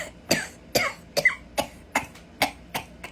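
A run of about seven short, dry coughs comes at a steady, rhythmic pace, each one a brief harsh burst, close and fairly loud, with no talking between them.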